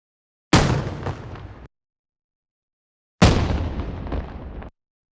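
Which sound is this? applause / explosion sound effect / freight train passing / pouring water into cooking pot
explosion sound effect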